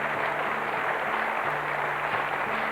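Audience applause on a 1990s Irish television chat show in honour of a 111-year-old woman, a dense steady wash of clapping held at an even level throughout, with faint tonal hum underneath.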